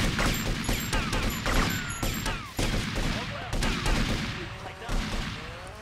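Grand Theft Auto: Vice City game gunfire against police, a dense rapid barrage of overlapping shots and bursts with crashes, loud and continuous across the whole stretch.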